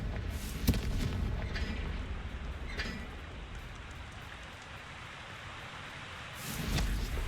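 A Confringo fire-blast spell explodes in a Hogwarts video game, with a sharp boom near the start, a crackling rumbling tail that fades, and another blast rising at the end.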